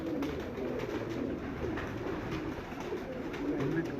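Pigeons coo continuously, low murmuring calls overlapping in a steady flock chorus close by.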